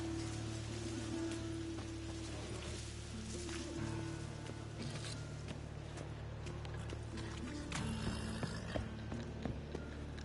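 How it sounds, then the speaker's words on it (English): Rain falls steadily in The Witcher 3: Wild Hunt, a soft continuous patter with occasional sharper drops, accompanied by faint game sounds like hoofbeats and a low hum. "Rain, I like rain."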